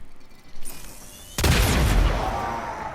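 The Bombard kitgun in the video game Warframe fires explosive shots: a faint early pop, then one loud booming blast that rolls off into a long, fading rumble, with no voices.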